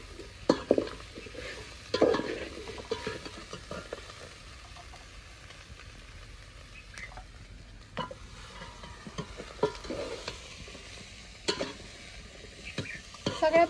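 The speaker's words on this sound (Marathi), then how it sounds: "मसाले वगैरे जरा परतले ना की छान चव येते." Spices and vegetables sautéed in a pan for a Makar Sankranti bhogi vegetable dish, with intermittent stirring knocks and scrapes over a faint, soft sizzle.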